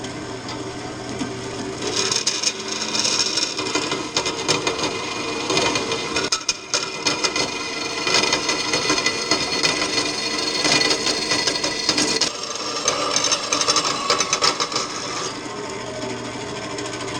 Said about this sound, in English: we're gonna cut along here, and I'm gonna cut along here and then weld this back together.